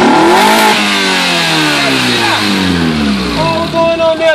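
A Honda Accord engine, just back on new battery cables, fires up and revs hard, the pitch sweeping up and down in a few loud throttle blips before easing off, with a voice briefly heard near the end.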